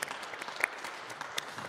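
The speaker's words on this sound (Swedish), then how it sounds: "Jag tycker vi ger varandra en riktig applåd." An audience at a Swedish panel discussion during a global week event claps sparsely and quietly, a scattering of distinct individual hand claps rather than a full ovation.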